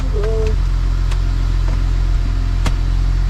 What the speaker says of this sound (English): as you can hear, the engine just started.